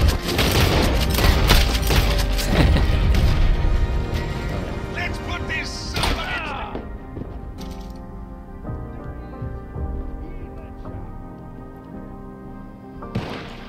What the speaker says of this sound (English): I'll just shoot that guy with the varmint rifle